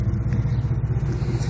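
1997 Chevrolet C1500 pickup with a 36-inch glass pack exhaust, giving a steady low engine rumble with slight pulsing, close and moderately loud, briefly and alone.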